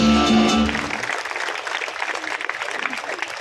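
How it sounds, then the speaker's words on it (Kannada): An audience at a church passion play at St. Francis Xavier Church, Chickballapura breaks into loud, dense applause that follows a brief tonal sound at the start, then gradually tapers while clapping continues. "ಜೋರಾಗಿ ಚಪ್ಪಾಳೆ ಕೊಡಿ"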